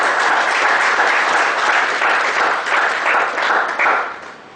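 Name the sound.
audience round of applause for the presenter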